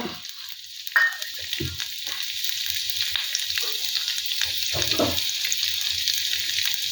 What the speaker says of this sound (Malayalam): അപ്പോൾ അമ്മ എണ്ണ ഒഴിക്കുകയാണ്